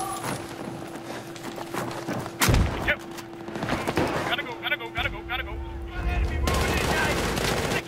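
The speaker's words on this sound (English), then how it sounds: "Oh, I'm getting shot." Gunfire in the video game Battlefield 3, bursts of shots and impacts mixed with game noise, with a player talking over it.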